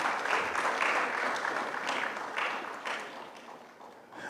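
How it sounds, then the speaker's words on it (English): An audience at a news programme clapping for a guest, a moderate burst of applause that rises quickly and slowly thins out over a few seconds. "Please give him a clap before I continue."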